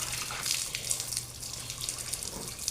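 Water splashing and running during a small child's bath, a steady wash of close, moderately loud splashes and trickles continuing throughout with no talk.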